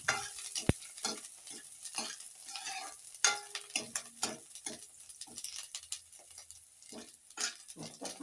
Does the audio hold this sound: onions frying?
yes